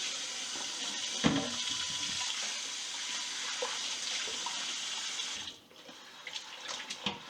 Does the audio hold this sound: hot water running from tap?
yes